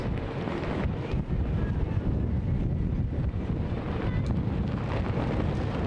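Gusty wind roars across the microphone at an outdoor collegiate cycling criterium in Albuquerque, New Mexico, a loud, continuous rumbling buffet with no talk.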